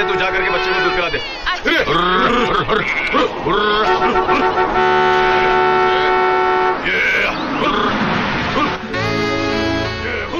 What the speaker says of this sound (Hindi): हॉर्न बजा रहे हो, सुनाई नहीं देता है क्या?